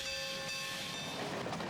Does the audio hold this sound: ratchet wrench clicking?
no